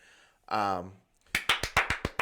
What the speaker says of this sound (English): Brian keeps clapping